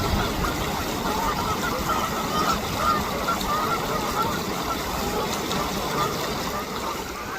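A flock of geese squabbles in a fight, dense overlapping honks and cackles in a continuous noisy mass at moderate distance, with faint outdoor water noise underneath.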